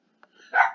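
A small dog gives a single short, sharp bark indoors at a house, close and fairly loud, with no talking at that moment.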